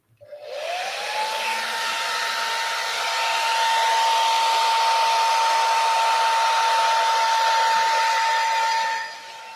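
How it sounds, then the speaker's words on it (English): A hair dryer starts up and blows steadily on acrylic paint, settling into a loud, even whine with a constant rushing airflow for several seconds before dropping off near the end. "now I'm going to take my hair dryer and blow this out"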